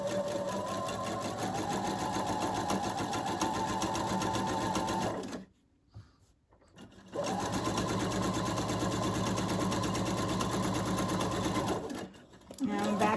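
A sewing machine runs steadily while stitching elastic around a corner, a continuous close whir that stops for about two seconds in the middle, restarts, and pauses briefly again near the end.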